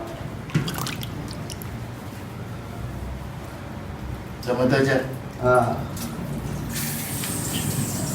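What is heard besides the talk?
water poured from a scoop while washing a body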